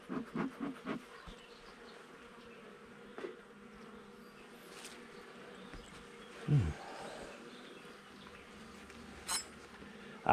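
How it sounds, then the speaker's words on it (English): Honeybees buzzing around an opened hive frame, a low droning hum with a few louder close passes and brief wooden knocks and clicks from handling the frames. "I think they're honeybee."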